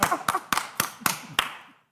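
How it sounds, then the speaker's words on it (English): At a Tuscaloosa city council meeting, about six crisp, evenly spaced hand claps ring out close by in a slow rhythm, then the last one fades into silence. "you get applause just for being here"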